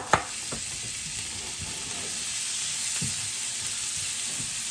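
Mushroom and parmesan risotto being stirred in a pan: a soft sizzle and steady hiss, with a sharp scrape at the start and a few faint spoon strokes after it.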